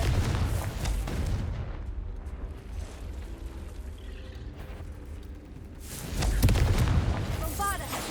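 A Confringo fire spell explodes in Hogwarts Legacy, with a booming blast at the start, a fading rumble, then a second heavy explosion near the end, loud and close.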